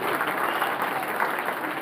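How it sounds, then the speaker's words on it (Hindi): Audience applause for a children's drama performed at an Independence Day school event: dense, steady clapping from a crowd throughout the short stretch, with no voices over it. "उन बच्चों के लिए बहुत जोरदार सम्मान में तालियां"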